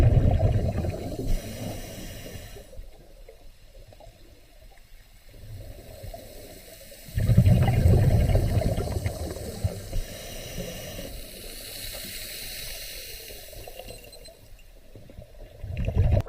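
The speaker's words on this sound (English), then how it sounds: "you can hear the waves breaking onto the sand" Underwater near a sandy shore at Shelly Beach, Queensland, breaking waves come through as muffled low rushing surges that swell and fade in slow pulses, with a steady faint hiss between them.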